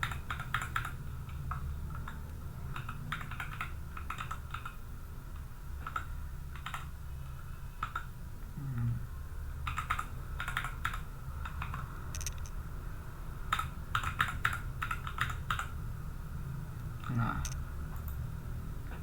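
Customer data typed on a computer keyboard into a web sales application, with quiet, rapid clusters of key clicks separated by short pauses against a low background hum.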